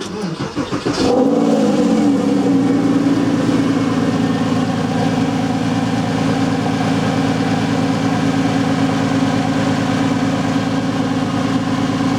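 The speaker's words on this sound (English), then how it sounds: "If I start the car now" A Porsche 911 (996 Carrera 4S) engine cranks briefly, catches, and settles into a steady, throaty idle that continues evenly, close by and loud.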